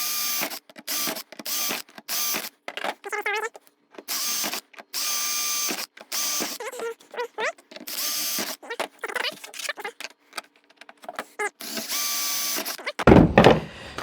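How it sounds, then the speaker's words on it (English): A power drill with a 3/16 bit enlarges rivet holes in a Pelican Catch 100 kayak, firing in short, loud, whining bursts broken by pauses, alone and close up. "So what I'll do is I'll drill out these other holes."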